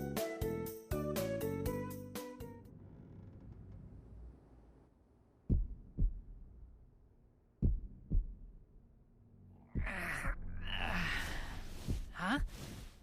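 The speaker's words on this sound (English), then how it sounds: "heartbeat" Heartbeat sound effect in the video game Trials of Mana, a few spaced, muffled low thumps in pairs after a short musical phrase, followed by breathy gasps and sighs.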